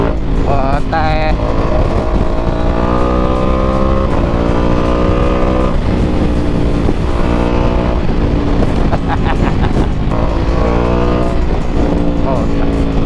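A Ducati Multistrada V4S motorcycle accelerates hard, its engine note climbing repeatedly through the gears with brief dips at each shift, loud and close throughout.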